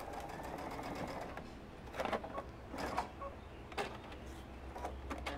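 A sewing machine stitches pieces of a plush horse stuffed animal, running in short, close bursts of rapid mechanical clatter with brief pauses between them.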